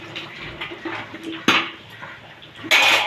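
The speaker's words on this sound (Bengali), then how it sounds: "এবার একটু নেড়ে দেবো।" A cooking pot of vegetarian Bengali banana-flower ghonto is stirred after ghee and garam masala go in. Soft scraping and clinking run throughout, with two sharp, louder metallic knocks close by.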